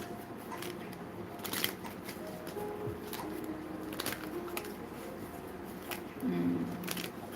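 Tarot cards shuffled by hand during a live reading, a steady run of soft papery riffles and flicks close to the microphone, with brief faint talk under it.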